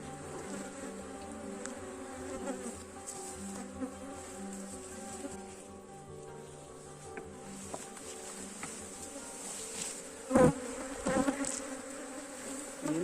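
Dense, steady buzzing of honey bees swarming close around a hive box as frames are rearranged to start a new colony, a continuous drone with a few louder thumps and handling noises near the end.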